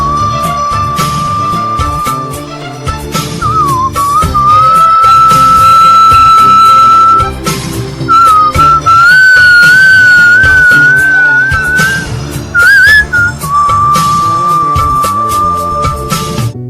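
A man whistles a song melody over a loud karaoke backing track, the sustained whistled line gliding and wavering steadily across the whole stretch, close and prominent with no talking.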